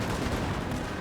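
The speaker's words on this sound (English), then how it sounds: "Let's try firing on those, firing the militia." Dense continuous musket volleys from troops firing on militia in a Napoleon: Total War battle, a dense rattling wall of gunfire with no clear gaps.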